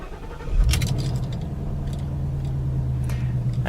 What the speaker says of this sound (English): the first thing you have to do is power on the engine